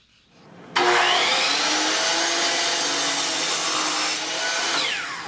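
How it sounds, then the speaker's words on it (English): A miter saw cuts a short piece of lumber: after a quiet start, the motor and blade burst in sharply and keep up a loud, steady whine and rasp through the wood for about four seconds, then ease off slightly. "Here I'm cutting a short piece of lumber."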